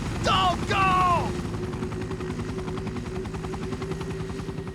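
Helicopter from the Resident Evil Director's Cut game flying off, a steady rotor chop pulsing under a short shouted voice at the start and fading slightly as it continues.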